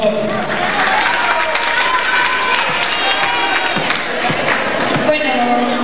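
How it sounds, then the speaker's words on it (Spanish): Audience applause at a cultural evening: loud, sustained clapping from a crowd with some cheering mixed in, close and continuous, while a voice briefly carries over the noise. "El aplauso para Juliana, por favor."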